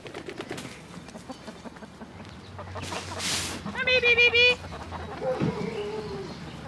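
Chickens clucking and squawking nearby, with one loud rhythmic cackle standing out among scattered bird calls and faint background talk.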